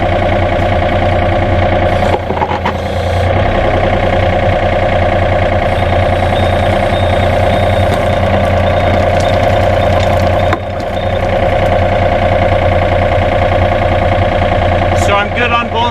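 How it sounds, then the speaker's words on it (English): A Gehl Z35 compact excavator runs close by with a loud, steady engine drone while its track sprocket spins to seat the track, the hum dipping briefly twice. "I'm going to spin that sprocket and it'll line the track back on"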